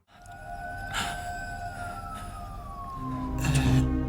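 A police siren wails steadily, its pitch sliding slowly downward, with broadband traffic rumble and a sudden burst of noise near the end.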